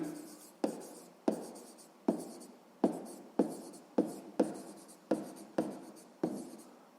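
Pen strokes scratching on paper while a sixth-grade maths exercise is written out by hand, about ten sharp rhythmic strokes each tailing off, close and clear with no talk.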